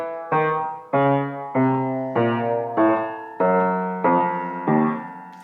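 Walking bass from Schoenberg's Pierrot Lunaire, written in a quasi-Baroque style: a steady chain of sustained, resonant instrumental notes, each entering on a regular plodding beat, clear and close with no voices.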